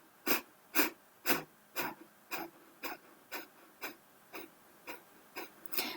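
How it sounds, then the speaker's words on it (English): Breath of fire: rapid, forceful exhalations through the nose, about a dozen sharp, evenly spaced puffs close up, gradually softening, with no talking. "And then add breath of fire through the nose,"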